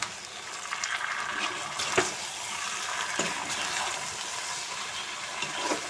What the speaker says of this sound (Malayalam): അപ്പം ഞാൻ ഒന്നും കൂടി തുറന്നിട്ട് പോർക്കിറച്ചി ഇളക്കി കൊടുക്കുന്നുണ്ട് കേട്ടോ